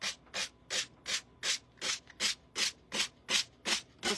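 Sandpaper rubbed downward along the edge of a wooden church wall hanger to round it off, eleven even, steady strokes in a close, regular rhythm with no talking.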